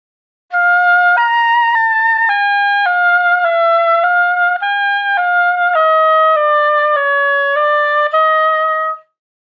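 An oboe plays an etude with every note slurred, a smooth, connected run of about a dozen clear sustained notes moving up and down without breaks, played alone and close.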